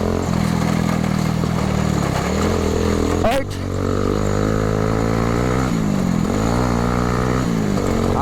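A Bajaj Pulsar NS220 motorcycle being ridden on an adventure ride hums with a loud, steady engine drone close to the microphone, pitch shifting slightly as it accelerates, while the riders talk and shout over it.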